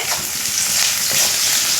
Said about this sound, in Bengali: আর একটু নাড়াচাড়া করে একটু লাল করে ভেজে নেব